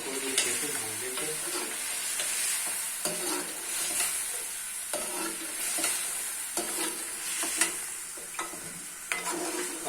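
Food stirred and roasted in a pan for a Pakistani sehri meal, with a steady sizzle running throughout and repeated scraping strokes of the spoon; no talk.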